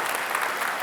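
Steady applause from a studio audience at a final-round Jakarta governor's election debate, many hands clapping densely and loudly in a brief burst for the two candidates.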